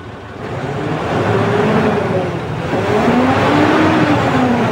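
Diesel engine of a Fuso truck with a 6M70 engine and a faulty injector revving during an RPM check, a loud steady roar that climbs and dips in pitch over several seconds, close by and alone.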